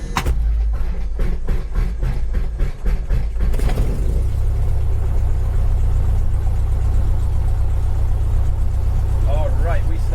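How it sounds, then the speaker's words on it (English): A light propeller airplane engine cranks with rapid rhythmic chugs, then catches and settles into a loud, steady idling rumble heard from inside the cockpit. "I'm commencing engine start."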